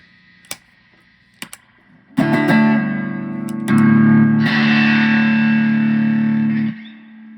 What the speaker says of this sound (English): Traynor solid state distortion madness. It's loud as hell.